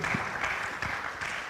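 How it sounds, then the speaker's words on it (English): An audience applauds a speaker at a performing arts conference at the Kenya National Theatre, with steady, dense clapping that holds at an even level throughout. "Round of applause for Alex Nderito."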